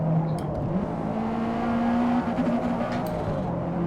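Race car engine accelerating in the video game Forza Motorsport, a sustained droning roar with rising engine tones held under steady load, close and loud throughout with no talk.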